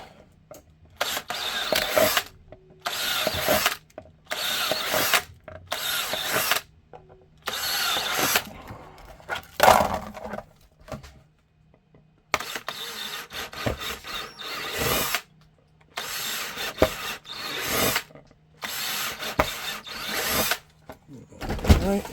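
A power drill whirs in repeated bursts of a few seconds each, separated by short pauses, fairly close and moderately loud, while drilling holster material for an HK USP 9/40 pistol.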